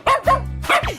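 A dog in a 3D animal video game gives three quick, close, punchy barks in a tight burst, loud and clear with no talk over them.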